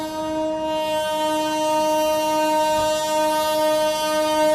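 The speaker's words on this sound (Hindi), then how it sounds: "और ये कौन सी ट्रेन है जो स्किप कर रही है बाराबंकी को?" An Indian Railways train passes through Barabanki station without stopping, its horn sounding as a long, loud, steady multi-tone blast held throughout.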